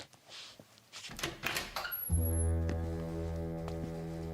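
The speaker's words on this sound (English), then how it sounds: "Get the door, Jimbo." A door opens in a radio drama amid a few clunks and knocks, then a steady low throbbing hum carries through to the end.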